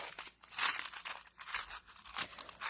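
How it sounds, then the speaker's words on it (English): A plastic folder holding purple beads is opened, giving close, quiet crinkling and crackling of thin plastic in irregular bursts. "So I got to open these. These come in like a little plastic folder."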